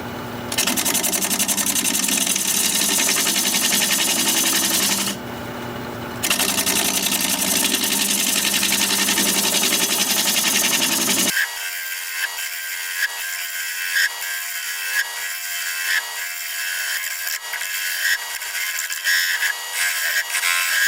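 A wood lathe turns a wooden candle holder, the steady motor whine and tool hiss filling the first half with a brief gap, then dropping to a thinner, lighter cutting sound with small ticks near the lathe.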